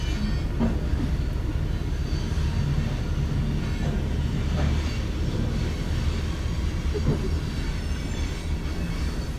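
A train rumbles past close by with a steady, loud roar, rattling wheels and occasional faint squeals, continuous throughout.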